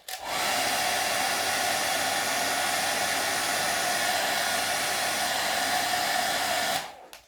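A heat gun warms carbon film on a motorcycle fairing, blowing with a steady, close hiss and hum that runs unbroken for several seconds before cutting off.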